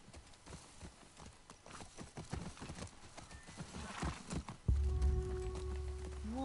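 Hooves clop in a quick uneven rhythm as a horse moves through the video game The Last of Us Part II, building in loudness before a sudden deeper rumble and low tones take over near the end.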